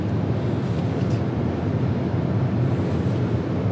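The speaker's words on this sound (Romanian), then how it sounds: "Se aude vânt. Da, dar și bate vânt." Steady rushing wind buffets around the mirrors of a moving BMW X7 M Sport biturbo, a broad, continuous roar with a low rumble underneath.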